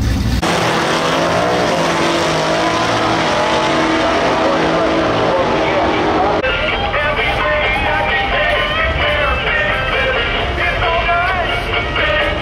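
Race cars, Mustangs among them, run at Irwindale Speedway, with loud continuous engine roar and tire noise that shifts abruptly partway through as the cars pass close by.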